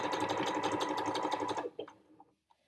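A sewing machine stitching couching cord in a chain-of-hearts design runs in a fast steady whir for about a second and a half, then stops, leaving a few faint clicks and handling sounds.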